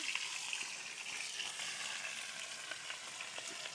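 Garlic, green chilies and onion fry in a generous amount of soybean oil, making a dense, even sizzling hiss with faint crackles and no talking.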